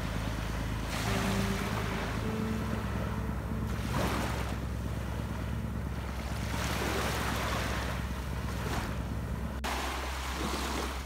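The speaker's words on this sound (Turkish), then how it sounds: "Küçük balıkçı tekneleri de kısmetin peşindeydiler." Small fishing boats out at sea at night under a full moon off a beach campsite at Armutlu give a steady low engine drone, with continuous surf and wind noise and no voices.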